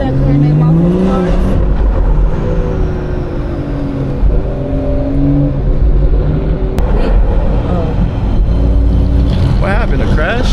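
Catless BMW 440i on a late-night city drive, its loud, throaty engine rising and falling through revs, with a brief high tone partway through, heard from inside the cabin.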